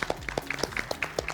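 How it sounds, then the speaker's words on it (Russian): Audience applause at a Russian youth debate show, heard as a steady series of sharp claps spaced roughly a quarter second apart, giving a rhythmic, even pattern over a short stretch. "Спасибо, аплодисменты."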